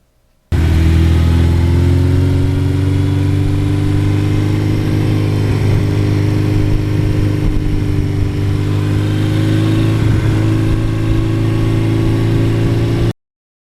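A one-owner 1982 Suzuki GS1100E motorcycle engine runs steadily at a loud, close idle for the whole stretch, with a deep, even rumble and only slight shifts in revs.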